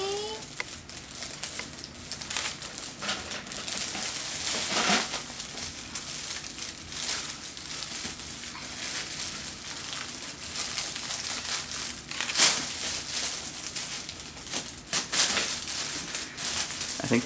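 Cellophane wrapping on an Easter basket crinkling and crunching almost continuously, close and fairly loud, with a few sharper crackles.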